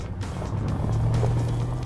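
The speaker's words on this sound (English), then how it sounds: "it's not long before the cars are back on the move and giving the snow a right royal pounding" Range Rover SUVs churn through snow in Vermont, a steady low engine drone with a rising rumble mid-way as the vehicles push on, fairly close and continuous with no talking.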